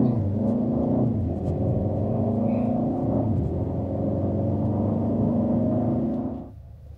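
A Mercedes GLB250 4MATIC engine sits under a steady low, droning rumble as the pedal is pressed, holding a constant loud tone with a slight rise before cutting off abruptly near the end. No voices.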